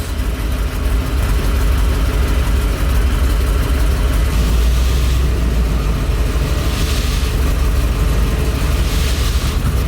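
A 1970 Corvette barn find with an LT1 V8 idles at about 800 RPM, a close, loud, lumpy low rumble with steady uneven pulsing and rough exhaust texture throughout.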